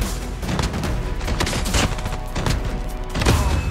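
Shotgun fire in Call of Duty Mobile amid a dense, loud barrage of overlapping gunshots and booms, with several sharper blasts standing out near the middle and end.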